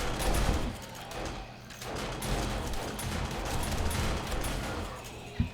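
Automated turrets firing at zombies in 7 Days to Die: a dense, continuous patter of small shots at moderate distance, heavy low rumble underneath, and a sharp thump near the end.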